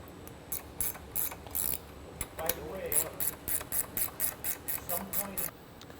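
A driver tightens screws on a Gloss Boss wheel boss arm during a bearing replacement, producing quick rhythmic ratcheting clicks in short bursts, close but fairly quiet.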